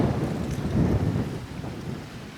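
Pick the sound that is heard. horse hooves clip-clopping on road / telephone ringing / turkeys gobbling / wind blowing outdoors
wind blowing outdoors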